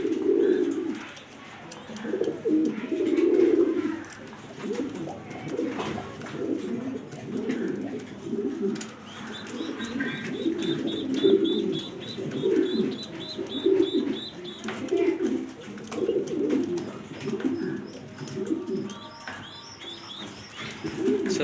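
A Pagla Giribaz pigeon coos again and again at close range, its low throaty calls rolling in a steady uneven rhythm with no talk over them.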